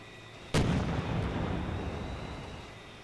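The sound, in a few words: gunfire and artillery fire in Steel Beasts Pro video game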